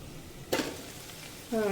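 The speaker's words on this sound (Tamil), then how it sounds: "இது கொஞ்சம் நேரம் ஃப்ரை ஆகட்டும்" Spices tempering in hot oil in a pan for a mutton curry, a brief sizzling burst, then quiet frying hiss before a tonal clink near the end.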